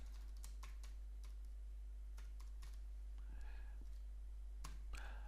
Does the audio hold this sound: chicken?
no